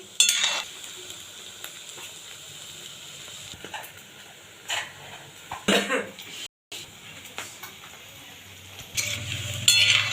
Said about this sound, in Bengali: বাকিগুলো এইভাবে ভেজে নিচ্ছি